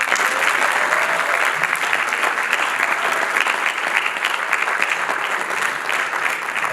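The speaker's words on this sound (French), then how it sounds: "Asdine, tonnerre d'applaudissements." Thunderous audience applause at a live show in Stains, a dense, steady roar of many hands clapping that fills the whole stretch without a pause.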